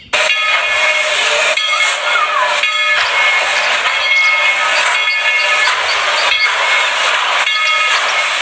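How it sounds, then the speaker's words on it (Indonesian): A hissing steam whistle blows in repeated bursts with short breaks from a Thomas toy train at close range. "Wahai, ada kereta api Thomas."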